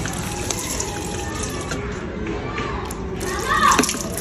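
Water poured from a container onto potted houseplants indoors, a soft steady splash and trickle against background voices, with a brief louder gush near the end.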